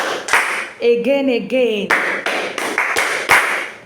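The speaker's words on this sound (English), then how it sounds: "Clap for yourself." A class of students claps during a language lesson, with sharp bursts of hand claps spaced across the moment while a voice speaks briefly between them.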